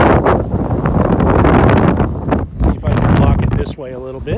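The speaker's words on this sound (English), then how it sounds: "Real windy at the top of the hill here." Strong wind buffets the microphone on a hilltop at an avocado nursery, a loud continuous roar of gusts that dips briefly midway, with a voice speaking over it near the end.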